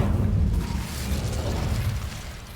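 A fire spell cast in the game Hogwarts Legacy gives a loud, sustained whooshing roar with a heavy low rumble throughout, like a burst of flame that slowly eases off.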